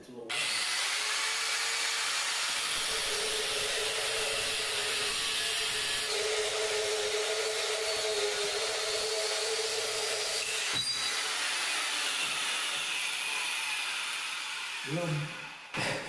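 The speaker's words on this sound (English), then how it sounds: "The cutoff wheel will make it." A cutoff wheel grinds through metal while fabricating a sawmill power head, a loud, continuous high-pitched whine at close range that runs for about fifteen seconds before spinning down.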